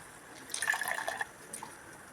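Liquid drips and trickles through a cloth filter into a vessel, a quiet cluster of splashy drops for about a second, then a few faint isolated drips.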